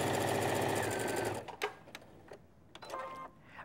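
A sewing machine runs steadily for over a second as it stitches a quilted border onto fabric panels, then stops, followed by a few sharp clicks and handling sounds nearby.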